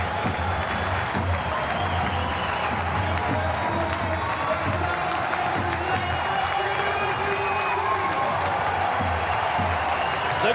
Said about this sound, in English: Stand by for a standing ovation at Leica.